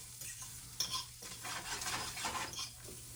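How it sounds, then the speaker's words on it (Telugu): Vegetables with beans and sweet corn are sautéed for Maggi in a pan on a snowy day, with steady scraping stirs over a soft, continuous sizzle and no talking. "ఆ తర్వాత దీన్ని ఊరికి అలా సాటే చేస్తే సరిపోయింది"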